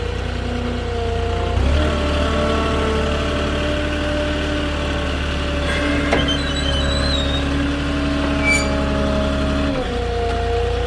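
A forklift engine rumbles steadily near at hand while it moves pallets of concrete brick pavers, a loud low idle with slight shifts in pitch and faint clanks from the forks, with no talking.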